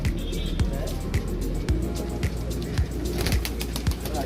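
Teddy pigeons cooing in low, repeated phrases on a rooftop loft, with a steady background hum and faint crowd noise around them.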